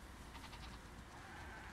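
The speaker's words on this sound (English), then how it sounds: "Wow, that's a lot of sheep." Sheep bleat faintly in The Last of Us Part II video game, a flock whose repeated calls sit low in the mix over a steady background bed of ambient noise.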